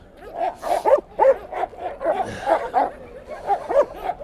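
East Siberian Laika hunting dogs bark repeatedly at a hunting-dog show, a rapid run of sharp, fairly close barks and yips overlapping one another, with a busy outdoor crowd murmur underneath.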